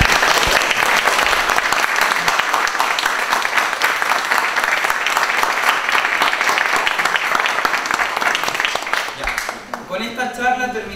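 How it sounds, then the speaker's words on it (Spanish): An audience at a talk gives loud, sustained applause for about nine seconds, many hands clapping close by, before a voice takes over at the end. "vamos a dar un fuerte aplauso a ambas"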